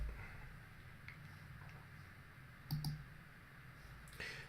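Computer mouse buttons clicking while setting up a WordPress website: a few quiet, sharp clicks, including a close double click near the middle and another toward the end, over faint room hiss.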